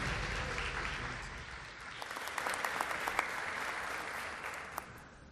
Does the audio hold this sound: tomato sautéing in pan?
no